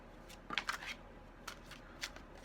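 A deck of tarot cards is shuffled in short riffling bursts, soft papery flutters close by in a quiet room, a cluster early on followed by a few lighter shuffles.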